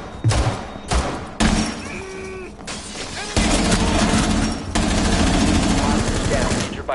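Enemy gunfire in a tactical shooter game, with short bursts early on, then sustained automatic fire and thuds under a busy mix of game sounds and voices.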